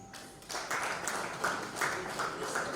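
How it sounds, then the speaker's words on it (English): Audience applause at a Lagos State government press briefing, a moderate, sustained patter of many hands clapping at once after a short quiet lead-in, heard from within the room. "Another round of applause, ladies and gentlemen"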